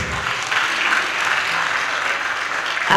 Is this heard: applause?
yes